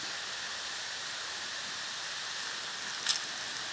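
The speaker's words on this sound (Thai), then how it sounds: "เสียงคล้ายๆน้ำตก" A steady, hissing rush of falling water from a waterfall at a moderate distance, unbroken throughout.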